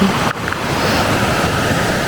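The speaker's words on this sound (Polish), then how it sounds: "A tutaj kamienie i rzeka. I szum rzeki." Steady rushing water roars close by, a continuous broad hiss of a river tumbling over stones in Germany with no pauses.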